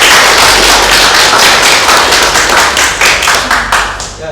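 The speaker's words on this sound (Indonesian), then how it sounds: "Beri tepuk tangan untuk teman kalian." Close, loud applause from a small classroom group, with sharp individual claps forming a dense patter that gradually slows and thins out before stopping.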